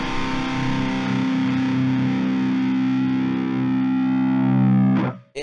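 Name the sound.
guitar amp sim with multiband middle band triggering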